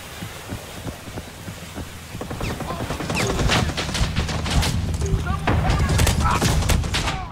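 Bursts of machine gun fire in the Vietnam war shooter Rising Storm 2, set in Hue City, crackling rapid gunfire that grows denser and louder after a couple of seconds, with a player's voice talking underneath.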